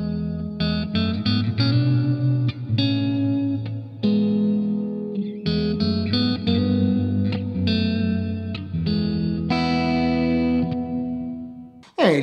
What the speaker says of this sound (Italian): applicava questo riverbero lunghissimo che gli permetteva di avere un po' più di ambiente